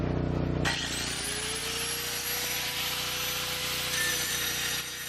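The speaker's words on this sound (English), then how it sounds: "we're using an angle grinder to free the pins" Angle grinder cutting through welded pins on the worn teeth of a Ford 555E backhoe bucket propped on logs, a loud steady whine running continuously after a brief start-up, with no speech.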